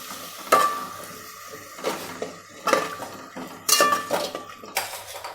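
A spoon clinks and scrapes against a bowl while plain yogurt is stirred, several distinct irregular clatters over a faint background hiss, close by with no talking.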